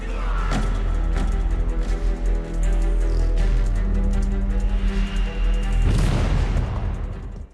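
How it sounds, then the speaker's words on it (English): Grenade explosion in an anime: heavy booming blasts and bursts over a dense soundtrack, with a sharp loud impact near the end. "Yu threw them with a grenade"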